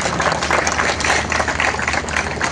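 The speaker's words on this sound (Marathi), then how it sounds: "एका जोरदार टाळ्या सगळ्यांनी वाजवा।" A large crowd at an outdoor mass yoga gathering breaks into loud, dense, continuous applause, with thousands of claps merging into a steady roar.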